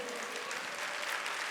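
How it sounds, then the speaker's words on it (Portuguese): A church congregation applauds during a sermon, a soft and distant wash of many hands clapping, steady and fairly faint. "Alguém pode aplaudir Jesus, igreja?"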